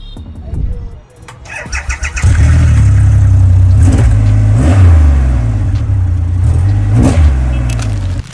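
Triumph Rocket 3R with its 2500cc inline-three engine starts up with a cranking burst, then settles into a loud, deep idle punctuated by three sharp throttle blips, recorded close by.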